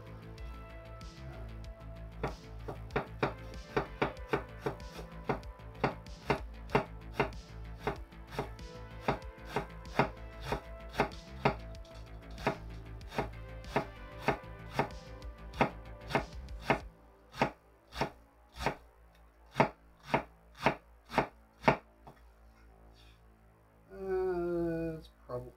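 Knife chopping lettuce on a cutting board while making potato tacos, a long run of quick, steady close chops that thins to a few spaced strokes near the end, with no talk.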